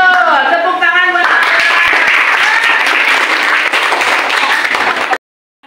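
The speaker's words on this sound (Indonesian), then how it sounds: "Tepuk tangan buat" Classroom applause for a student who answered in an Islamic religious and character education lesson; loud, dense clapping from many children begins right after a teacher's brief spoken prompt, then stops abruptly into silence.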